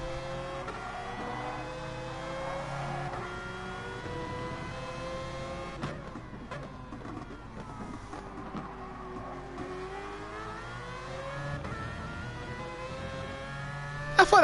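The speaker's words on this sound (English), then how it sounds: "I thought that Mazda engine would be quite louder than this." A Mazda race car engine in a racing video game, a steady droning tone that rises and falls with gear changes and revs, moderately quiet and continuous for the whole stretch.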